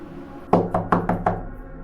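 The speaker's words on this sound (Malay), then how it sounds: "Aku dengar pintu bilik aku perlahan-lahan diketuk." Five sharp knocks on a bedroom door, evenly spaced and close, ringing out loudly against an otherwise quiet background as a sound effect.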